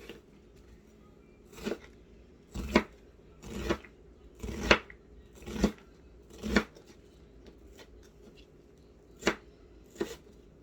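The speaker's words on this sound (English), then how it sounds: "Chopping my onion." An onion is chopped with a knife on a board, about ten sharp, close thuds at an irregular slow pace, separated by pauses of a second or so in a quiet room.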